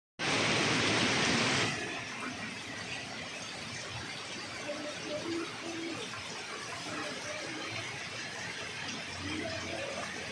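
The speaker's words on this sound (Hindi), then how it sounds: "झमाझम बारिश ने मौसम को सुहाना कर दिया" Heavy morning rain in Dholpur, Rajasthan, makes a steady, dense wash of hiss. A brief, loud, high squeal opens the sound, and then the rain carries on evenly without speech.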